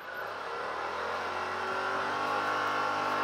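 A 2018 Yamaha Wolverine X4 SE side-by-side swinging through a J-turn, its engine a steady, close, continuous drone that swells slightly in revs, with no talking.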